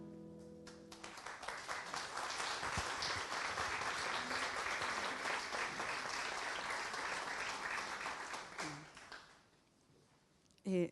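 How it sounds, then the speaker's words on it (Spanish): Audience applause at a citizen dialogue in Chile on legislative challenges for caregivers: a dense, steady wash of clapping that holds for about eight seconds, then thins and fades to quiet, with a short burst at the very end. "Muchas gracias por sus aplausos."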